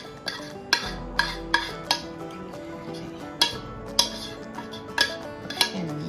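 Kuku sabzi frittata ingredients are mixed in an olive-oiled dish, giving a series of sharp clinks and scrapes in an irregular rhythm, close and fairly quiet.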